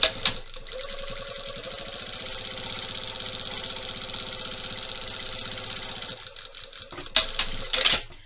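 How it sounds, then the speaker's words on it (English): A sewing machine edge-stitches along a trouser piece, a rapid even mechanical chatter running for several seconds before stopping, followed by a few sharp clicks and rustles. "I'm going to do an edge stitch just down this side to catch all of that in."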